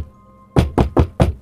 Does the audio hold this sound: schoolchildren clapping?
no